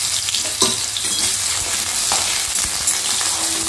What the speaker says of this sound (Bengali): আলুটা আগে একটু ভেজে নেবো।